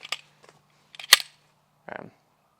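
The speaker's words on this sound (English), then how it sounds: "Lock the slide back manually, eject, reinsert." A CZ P-10C ported pistol handled up close: a slide racked and locked back, then a magazine ejected and reinserted, giving a few sharp metallic clicks and a duller seating clack in an otherwise quiet space.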